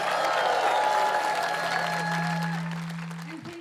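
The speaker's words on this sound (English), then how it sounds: "So a big round of applause." Festival audience claps after a spiritual stage performance, a fairly loud wash of applause over a sustained low drone that fades toward the end.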